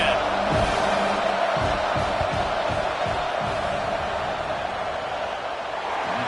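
A stadium crowd at a college football game, Nebraska at Ohio State, keeps up a dense, steady roar during a field goal try, loud and unbroken throughout.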